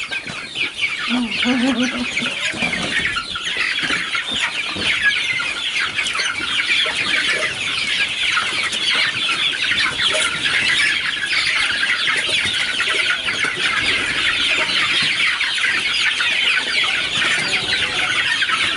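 A flock of chickens clucks continuously, many birds overlapping in a busy, close chorus with occasional louder squawks.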